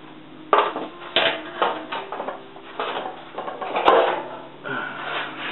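A practice metal patch panel for a Triumph TR6 is handled and turned over on a bench, making a series of hollow sheet-metal clanks and scrapes at close range, with no talking.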